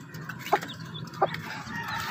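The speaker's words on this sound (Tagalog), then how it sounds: "nagpakain muna tayo sa ating mga lagang manok" Pet chickens at feeding time give two short clucks about half a second apart, close by, over faint background hum.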